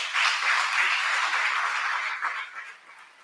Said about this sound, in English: We can give the Zululand Energy Terminal another hand of applause